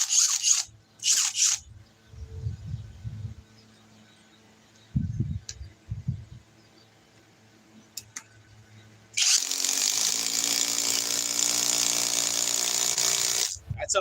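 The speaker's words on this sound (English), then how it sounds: "That's how much faster a drill is compared to an impact driver" A drill and an impact driver drive screws in turn: short bursts of motor whine and low rattling in the first seconds, then a long, loud, steady run of driving from about nine seconds to the end, with no talk.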